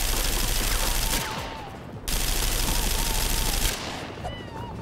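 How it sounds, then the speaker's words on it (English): Rapid bursts of video game gunfire from shooting military characters in Naughty Bear, dense automatic rattling in two long volleys separated by a brief break, loud and close. "Let's shoot some military guys."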